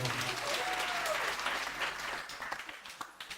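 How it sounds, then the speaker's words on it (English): Audience at a gender-based violence activism training session gives a round of applause, dense clapping that is loudest at the start and thins into scattered individual claps toward the end. "Give yourself a round of applause."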